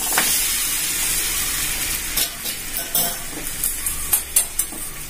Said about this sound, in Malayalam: ഇനി നമുക്ക് ഇതിലേക്ക് മാങ്ങ ഇട്ട് കൊടുക്കാം.